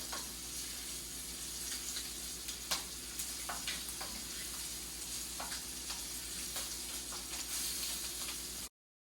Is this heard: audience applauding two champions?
no